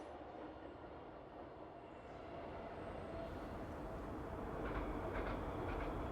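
An RER suburban train arrives at Cergy, its rolling rumble building steadily from faint to louder as it approaches, with light wheel squeals toward the end and no voices.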